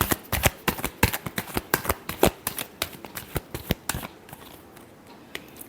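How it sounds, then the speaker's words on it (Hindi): Tarot cards being shuffled by hand, a rapid run of crisp riffling slaps and flicks that thins out into a few scattered taps near the end, close and clear with no talking. "Last shuffle."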